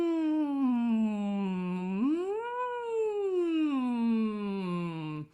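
A human voice imitates a cat's meow in a vocal warm-up, one long sustained drawn-out meow that dips, rises and slides back down, close and clear.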